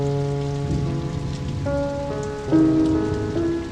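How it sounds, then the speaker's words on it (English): Heavy driving rain pours down in a steady, dense hiss, heard close and continuous beneath sustained orchestral music notes. "Hand in hand, they walked through the downpour."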